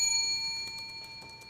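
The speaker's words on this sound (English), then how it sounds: "Ring that bell." A bell rings out with sustained tones and a steady series of evenly spaced strikes, alone without voices, at moderate loudness.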